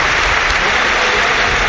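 A packed football stadium of about 67,000 people at a France v Albania match applauds as a tribute, a dense, steady roar of clapping filling the whole stretch without pause.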